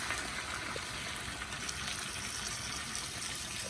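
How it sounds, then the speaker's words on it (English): Water pours steadily into sauce in a pan, a continuous gushing trickle heard up close and alone. "You will then put the remainder of the sauce and mix it with water"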